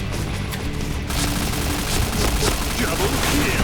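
Rapid gunfire in the online shooter Point Blank, a Deathmatch round with an MP7 on the Downtown map, sounding as dense, loud bursts of shots that build after the first second, with a voice talking over the action.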